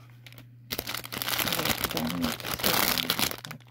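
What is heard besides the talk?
plastic jewellery packets rustling during parcel unpacking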